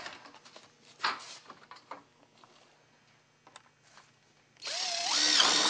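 A power drill drives screws into rake metal on fascia, with a brief whine near the end that grows louder and steadier after faint tapping and handling clatter.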